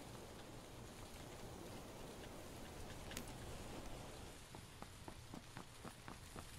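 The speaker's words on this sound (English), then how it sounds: "I just realized the rain actually works properly." Steady, faint rain hisses continuously across a video game scene, with a light patter of drops and soft footsteps-like taps becoming more distinct toward the end.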